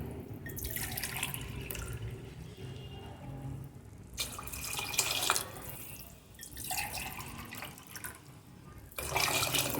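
Water pours from a glass into a cooking pot for a pulao in a home kitchen, coming as three separate splashing streams with short pauses between them and no talking.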